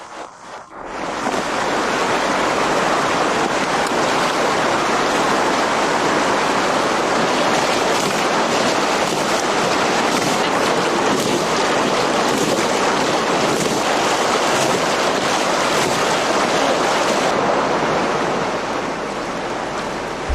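River water rushes in a loud, steady wash where women beat and rinse heavy clothes, a broad continuous roar that fades slightly at the end.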